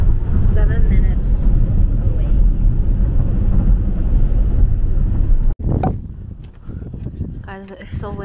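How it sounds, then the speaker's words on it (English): Steady, heavy wind buffeting the microphone with low rumbling gusts at a strawberry farm, briefly cut off, then continuing more unevenly with faint voices and chirpy sounds near the end. "It's so windy."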